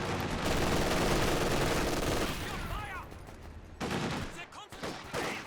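Dense MG42 machine gun fire in Company of Heroes 2 rattles continuously for about three seconds, then breaks into shorter bursts with battlefield clatter, while a commentator talks.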